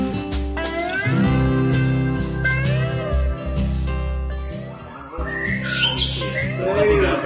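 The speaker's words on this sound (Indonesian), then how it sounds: "sebagai masteran burungnya adalah burung-burung asli" Master recording of real songbirds, tied to magpie-robin (murai) keeping, with loud continuous squawks, chirps and whistled phrases layered over a steady electronic hum and music-like background.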